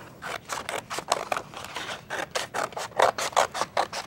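Scissors snipping through the front cover of a portfolio, a close, quiet series of rhythmic crisp cuts, roughly a dozen strokes in quick succession.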